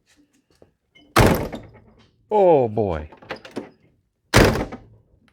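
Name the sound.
1951 Oldsmobile 88 driver door being shut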